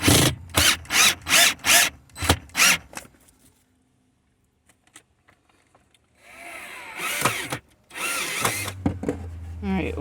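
Power drill driving screws into a shelf inside a van, heard as a run of about eight short, loud whirring bursts at the start, then near-silence and later louder rustling and handling noise.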